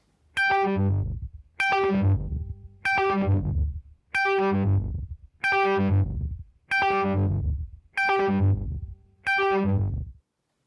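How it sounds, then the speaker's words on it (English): An electric guitar plays a repeated pattern through a delay pedal, each repeat an octave lower. Eight evenly spaced, distorted bursts each ring out and fade, dropping lower with every echo. "what it is a delay pedal, but each delay that you hear, it's descending an octave"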